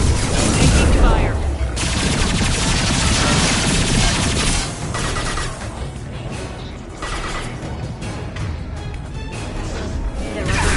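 Sustained gunfire from a Mass Effect 2 firefight, dense rapid shots and crashing impacts rolling continuously, loud and close, with a brief dip midway before the barrage picks back up.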